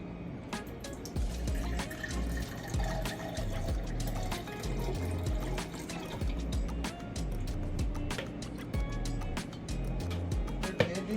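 Homemade lemonade drains and drips steadily as liquid pours through, a continuous watery trickle with scattered drip sounds under a low rumble, no talking.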